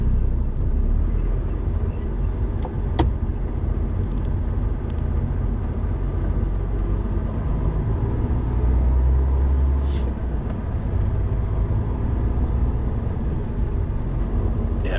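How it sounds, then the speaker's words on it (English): Steady low rumble of road traffic at a motorway service area in the early morning, continuous and fairly loud with no talk over it. "Traffic started already."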